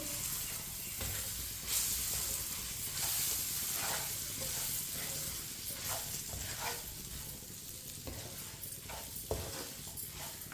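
Chopped coconut roasting in a pan while a spoon stirs it, giving a constant loud sizzle with repeated scraping strokes throughout, close up and uninterrupted by talk.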